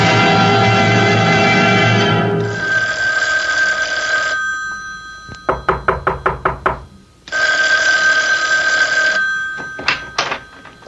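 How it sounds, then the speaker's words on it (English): Old-time radio drama effect of a telephone ringing: several long bursts of an electric bell alternating with sharp clustered rings, loud and close, with no voices over it. "Isn't that your phone I hear ringing?"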